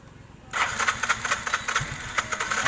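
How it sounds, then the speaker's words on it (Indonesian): A Yamaha Mio scooter engine cranks and catches after stalling, its small single-cylinder motor sputtering into a choppy, uneven idle close by. "Kita coba hidupkan lagi"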